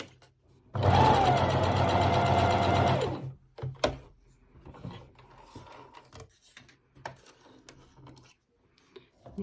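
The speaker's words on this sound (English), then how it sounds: "keep your needle in the down position, lift your presser foot and pivot that top round, and that'll let you get down the length nice and neatly." A sewing machine stitches a pajama top in one loud, close burst of a few seconds, then stops and leaves quiet handling clicks and fabric rustle.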